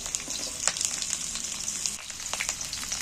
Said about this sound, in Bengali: এইবার আমি তেল গরম হয়ে গেছে কাঁকড়লগুলো তেলের মধ্যে তুলে দিচ্ছি আলুও তুলে দিচ্ছি